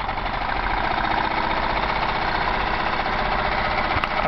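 A homemade Stirling engine runs freely after its generator is disconnected, giving a steady, loud mechanical chugging and rattling hum with a fast, even rhythm and no talk.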